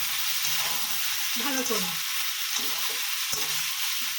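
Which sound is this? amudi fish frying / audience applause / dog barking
amudi fish frying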